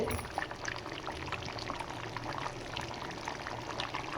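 Ground coconut paste poured into chicken gravy in a pan makes a steady, soft liquid pour with gentle bubbling texture that lasts throughout.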